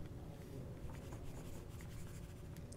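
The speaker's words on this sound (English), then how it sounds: "I'm going to go ahead and erase this" Pencil or marker writing being erased on paper, a quiet, steady rubbing scratch with soft irregular strokes, close and faint.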